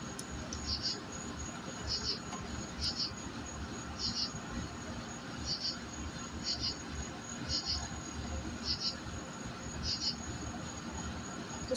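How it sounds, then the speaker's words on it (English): Against a steady insect drone, a single cicada sounds short, sharp buzzing chirps roughly once a second, close and even in rhythm. "A random cicada just freaked out in front of me."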